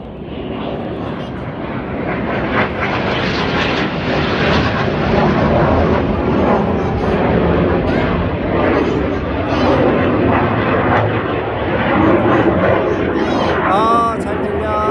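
Aircraft flying past at a Swiss Air Force air show in Grindelwald, a loud, sustained broadband engine roar that holds steady for the whole stretch, with people talking underneath.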